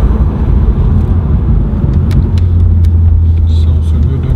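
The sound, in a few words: car engine revving while driving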